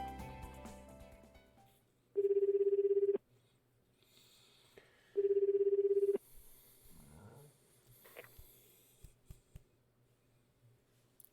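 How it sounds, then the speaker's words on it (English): Phone call placed from a mobile phone: two steady ringback tones about a second long, three seconds apart, followed by faint clicks and rustling on the line. "Out of sheer curiosity, I pressed the call button."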